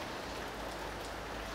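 Rain falls steadily outdoors, giving a dense, even hiss and patter that holds at a constant level with no other sounds.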